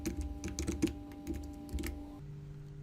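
Rapid keystrokes on a computer keyboard as a new category name is typed, a close, steady burst of clicks that stops near the end, with no talk.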